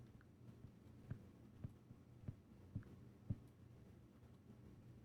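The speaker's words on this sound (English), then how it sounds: "What heartbeat are you hearing, V?" Slow, muffled heartbeat thumps in the horror game I'm on Observation Duty 3, about one beat per second over a low, steady hum, faint and alone with no talk.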